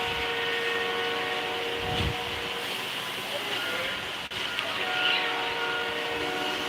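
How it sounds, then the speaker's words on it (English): A train passes below a drone flying over a rail line near Regina police headquarters, a steady mechanical rumble with a brief low thump near two seconds, fairly distant and continuous throughout. "I like the train sound."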